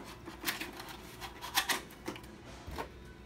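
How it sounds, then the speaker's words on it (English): Cardboard flaps of a paint display brochure holder get folded in and tucked, producing a few close, crisp creases and papery snaps spaced irregularly over a quiet background. "Now for the brochure holder, you're gonna fold these two flaps in, fold it in, and insert these locks."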